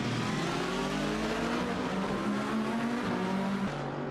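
Lamborghini GT race car and rivals lapping Portimao in a 6-hour endurance race, a loud continuous engine drone with shifting harmonic pitch as cars hold position under braking and acceleration, steady and close throughout.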